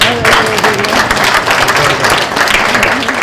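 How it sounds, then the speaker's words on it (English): A crowd applauds steadily and loudly throughout, a dense wash of many hands clapping together. "I think a round of applause for the candidates for handling that question."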